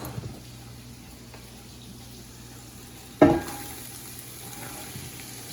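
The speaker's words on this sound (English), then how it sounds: "So onions go in and they cook for a little bit while we prep the peppers." Onions land in a pan and start to cook: a sudden sizzling burst after a quiet stretch of kitchen noise, then a softer steady frying hiss.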